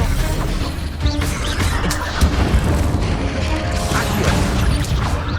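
An Expelliarmus spell cast in Hogwarts Legacy, a dense, booming magical burst with crashing impacts, sustained and loud across the whole moment amid busy game effects.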